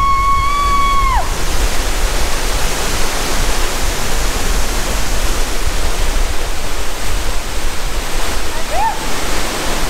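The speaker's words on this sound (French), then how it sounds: "Elle est énorme, mais on doit pouvoir voir le trou en fait, elle tombe du haut la cascade." Large waterfall plunging from the top of a cave, a loud, constant roaring wash of falling water that fills the whole scene, with a brief whistle-like tone near the start and end.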